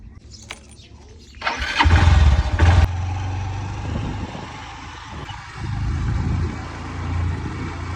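A motorcycle engine cranks and fires up on a farm after rain, a loud burst of starting noise followed by a steady idle rumble, with light background sound around it.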